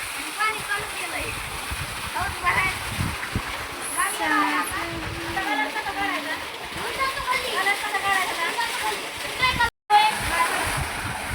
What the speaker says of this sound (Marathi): पाणी जोडलेलं आहे, पाणी चालू केलंय.